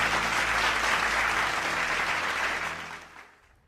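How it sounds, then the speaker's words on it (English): Audience applause at a government launch ceremony in New Delhi, a dense, loud, sustained burst of many hands clapping that holds steady, then fades out over the last second. "A round of applause, ladies and gentlemen, as we launch."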